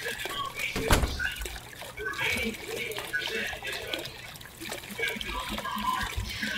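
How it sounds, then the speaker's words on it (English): Water runs and trickles steadily inside The Crooked Man video game, a soft continuous flow with one dull thunk near the start and occasional faint clatters. "Now, someone hearing water isn't a good thing."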